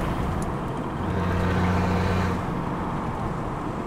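A 4x4 turbo diesel engine revs and pulls hard, a loud close rumbling drone that swells in the middle and eases off near the end, with no voices.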